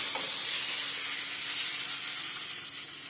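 Curry leaves sizzle in hot oil, a loud, steady hissing crackle filling the whole moment and fading slightly at the end, with no voices.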